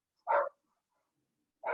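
Dogs in a house give two short, sharp barks about a second and a half apart, clear and close against silence.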